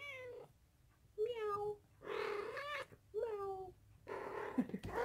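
A cat meows four or five times in a row, each call rising and falling, close and clear, with short pauses between.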